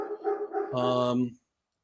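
A single dog gives a short, loud bark close by, preceded by a person's brief speech, then everything falls silent.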